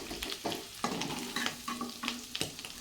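Potato pieces frying in hot oil for a potato gravy, with soft sizzling and several distinct stirring scrapes of a spoon in the pan, close and fairly quiet, no voices.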